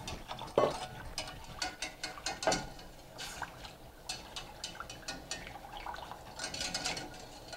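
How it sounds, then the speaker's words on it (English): Stock being whisked into vegan gravy in a pot, a steady run of quick metallic clicks and scrapes with soft liquid slaps, close and moderately loud, no talking. "Now once I've whisked in all of the stock"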